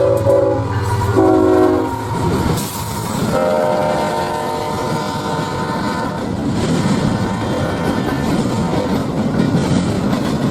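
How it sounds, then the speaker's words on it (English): A CSX freight train near Southfield Oak Yard sounds a loud, close horn salute in several short blasts at the start, then its cars rumble and clatter past steadily. "It gave out a nice horn salute to all the rail fans out there"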